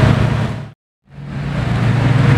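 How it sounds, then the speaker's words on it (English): A Bugatti Veyron Sang Noir passes on the street, a loud close roar of engine and rushing road noise that cuts out briefly and then surges back to full strength. "Here comes the Veyron Sang Noir in the wild."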